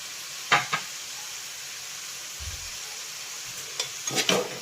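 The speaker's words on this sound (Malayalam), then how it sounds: "ഇനി ഒരു 5 മിനിറ്റ് സമയം അതിന് ഇളക്കണം" Chicken stew is stirred in a pan under a soft, constant sizzle. A few scattered spoon scrapes and knocks sound near the start and end, with a low thump in between.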